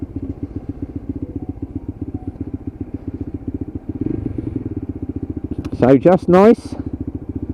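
A Lexmoto LXR SE Euro 5 motorcycle idles steadily while warming up on a still morning, a low even putter throughout, with someone briefly speaking over it near the end.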